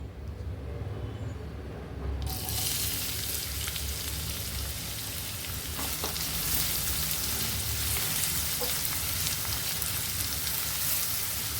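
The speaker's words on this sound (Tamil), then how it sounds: "வெங்காயம் நல்லா வதங்கட்டும்." Two large onions fry in hot oil in a pan with cinnamon and spices, for a Chettinad-style baby corn dish. A loud, steady sizzle starts abruptly and then keeps up without a break, close and alone.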